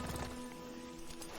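Hooves clip-clop steadily in Red Dead Redemption II as a horse moves along, a moderate rhythmic patter with faint background ambience and no speech.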